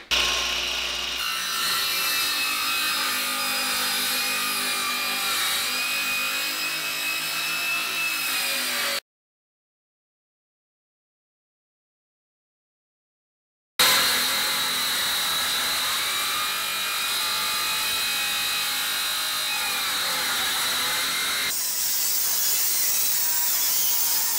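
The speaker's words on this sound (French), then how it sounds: "on va mettre cette petite scie à rude épreuve. C'est du chêne massif" A small handsaw rasps steadily through solid oak in continuous back-and-forth strokes, stopping for a few seconds of silence before the cutting resumes.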